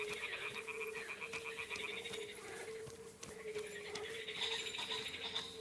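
Toads croaking in the video game Kingdom Come: Deliverance 2, a dense chorus of repeated, rhythmic croaks layered over one another, steady and moderately faint against a quiet ambient backdrop.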